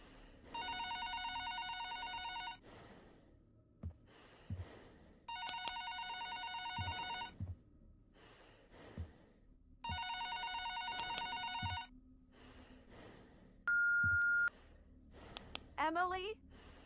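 A telephone rings in three long electronic bursts with pauses, followed by a short beep and a brief warbling tone, while a voice speaks in between.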